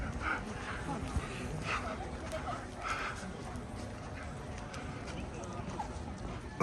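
Horse hooves clip-clopping on a street in Zakopane, Poland: a steady, moderately loud clatter of hoofbeats in a busy outdoor scene, with voices and street noise around it.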